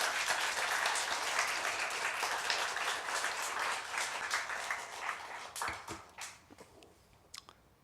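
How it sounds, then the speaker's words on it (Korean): A church congregation applauds, at first a full, continuous wash of clapping that thins out and trails off into a few scattered claps by the end. "하나님께 좀 영광의 박수 한번 돌려야 되지 않아요?"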